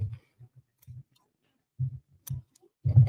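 Big scissors cutting away stitched thick material, a series of close, soft dull snips and clicks spaced unevenly in quiet, with a slightly louder cut at the end.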